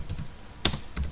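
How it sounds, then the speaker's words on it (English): Keys are tapped on a computer keyboard at close range, a few quiet separate clicks spread over about a second with no speech. "This is just a message that I'm typing inside the single quotes."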